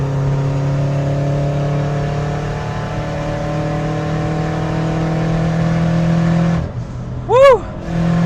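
A tuned Subaru Impreza WRX engine drones steadily at high load from inside the cabin, then briefly drops away as the driver lifts off the gas before a short rising whine.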